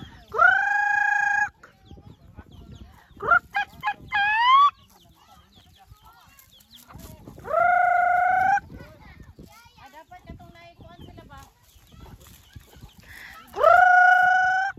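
Roosters crow loudly in repeated drawn-out calls, with quieter clucking and other barnyard noises between the crows.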